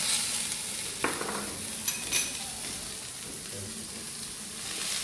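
Lemon butter sauce with lemon and garlic sizzles steadily in a pan while being stirred, a constant hiss with a few faint spoon scrapes and taps, close and moderately loud.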